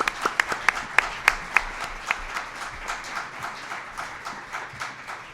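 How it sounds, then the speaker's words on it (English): At a mental health fundraising event, an audience gives a round of applause: several sharp distinct claps at first, then a dense patter of many hands that fades toward the end. "So let's give them a round of applause."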